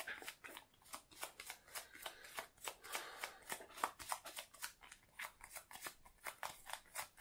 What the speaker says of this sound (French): 5 cartes, il faut les mélanger d'autant mieux